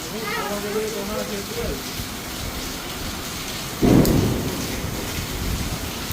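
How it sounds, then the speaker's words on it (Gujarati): Heavy rain pours steadily in Kalavad while a sudden thunderclap booms midway; a person talks briefly over the downpour at the beginning. "અને જો જોરદાર વરસાદ ચાલુ છે"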